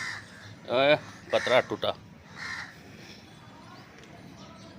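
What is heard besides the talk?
crows cawing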